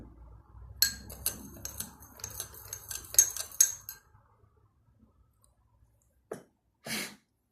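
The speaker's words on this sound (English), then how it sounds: "Let me try putting in a few scoops of salt in. And giving it a nice stir." A spoon stirs salt into a water solution, giving a run of close, quick metallic clinks and scrapes against a container for several seconds, then quiet, with two brief isolated taps near the end.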